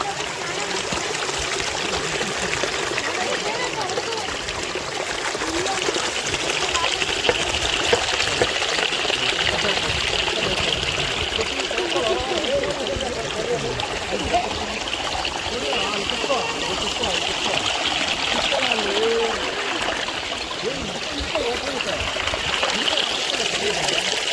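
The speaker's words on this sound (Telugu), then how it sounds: "ఇక్కడ ప్రవహించే నీరు కూడా తన సంగీతాన్ని వినిపిస్తుంది." Continuous rushing and babbling of a flowing mountain stream at Thumbura Theertham, close and steady, with a voice faintly audible at times.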